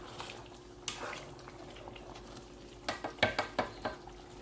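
Pistachio (egusi) sauce is stirred in a pot, a soft bubbling simmer with scraping and a quick run of wet spoon strokes and knocks near the end, close and quiet, no talking.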